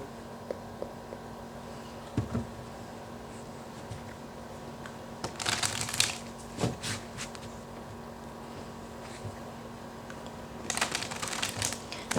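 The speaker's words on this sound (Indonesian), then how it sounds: "ketika aku shuffle kartu ini" Tarot cards being shuffled in a quiet room, soft riffling bursts around the middle and again near the end, with scattered light taps and rustles between them.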